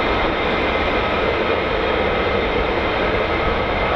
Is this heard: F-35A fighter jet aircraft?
yes